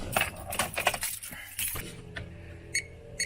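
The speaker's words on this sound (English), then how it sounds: "Let me go turn the ignition off and we'll check it again." Keys jingle and clink at the ignition of a Chevrolet Silverado as the key is turned off, a few bright metallic rattles up close followed by quieter clicks and a brief jingle near the end.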